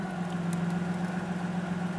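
A car engine idles steadily close by, a low even hum with a faint rhythmic pulse and no change in speed, alone with no voices.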